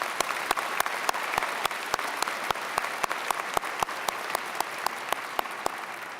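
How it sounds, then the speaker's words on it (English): An audience applauds at a fall university convocation ceremony for a chancellor's installation, sustained clapping in a large hall with sharp, evenly spaced individual claps standing out above the dense patter throughout. "would you please join me in one more round of applause"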